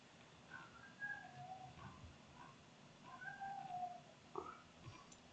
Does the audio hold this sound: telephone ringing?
no